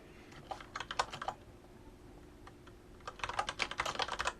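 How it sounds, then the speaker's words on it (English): Two bursts of quick typing on a computer keyboard, close and fairly quiet, separated by a short pause with a faint steady hum underneath. "I'm just going to type in another one."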